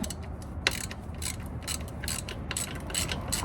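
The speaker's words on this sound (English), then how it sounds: "I'm just gonna get these two screws out of here so that hopefully these brackets lift up" A ratchet clicks in quick, uneven bursts, close and clear, while screws are backed out of the rear suspension brackets on a Lexus LS400 (Celsior).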